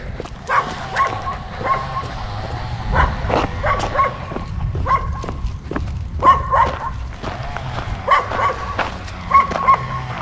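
Several dogs bark in irregular, repeated volleys, fairly close, over a steady low outdoor hum, during a storm.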